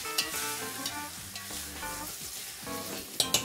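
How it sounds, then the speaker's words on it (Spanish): Pieces of hen sautéing in a generous amount of fat in a pan, with a steady sizzle and repeated stirring scrapes and clinks throughout, no talk. "es importante para rehogar la gallina, rehogarla en, bueno, pues en una cantidad generosa de grasa"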